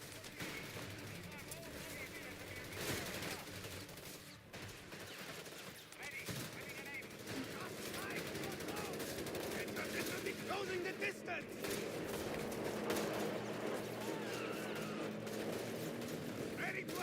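Sniper shots and scattered gunfire in a Company of Heroes 3 battle with the Deutsches Afrikakorps, sharp cracks and bursts over dense rumbling combat noise with shouted soldier voices throughout.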